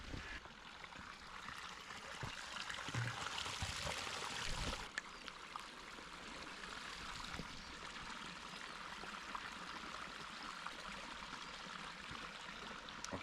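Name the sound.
spring water flowing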